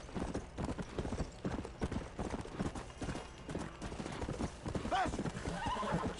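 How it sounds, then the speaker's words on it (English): A horse in Red Dead Redemption gallops with rapid, rhythmic hoofbeats close by, then lets out a short loud neigh near the end, while a player talks over the action. "I almost killed my horsey."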